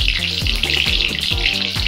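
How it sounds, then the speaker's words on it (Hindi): Bay leaves and whole spices fry in hot oil in a pan for a vegetable pulao. A loud, continuous, close sizzle holds steady throughout, over a low rhythmic background. "तो अभी इसमें हम डाल देंगे दो तेज पत्ता और इनको भी भून लेंगे।"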